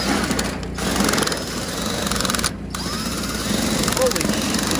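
A power tin cutter driven by a drill set to speed 3 whirs continuously while cutting tin sheet during an installation, a loud buzzing motor with brief dips, over people talking.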